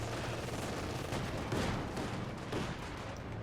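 Rifle fire in a WW2 real-time strategy game during a competitive match: a dense, continuous wash of overlapping distant shots and battle noise at steady loudness, with no clear separate reports.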